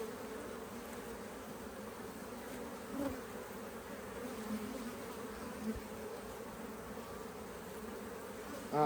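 Honey bees from a strong hive buzz in a dense, continuous drone that stays steady and close throughout, with no talking.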